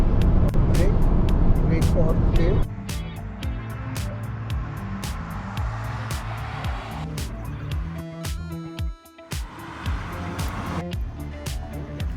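An MG Cyberster electric sports car, a two-seat roadster, accelerates on the road, giving a steady smooth drive and road noise that is loud at first and then eases under continuous talk from the people in the car.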